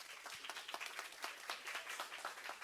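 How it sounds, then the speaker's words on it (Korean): Faint, distant applause at a closing ceremony for a climate and environment leadership course as the speaker is welcomed, with steady scattered clapping from a modest crowd. "모두 큰 박수로 맞아주시기 바랍니다"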